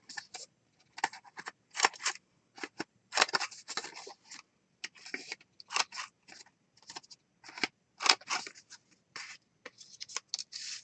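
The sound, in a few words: cutting to round the corners of cards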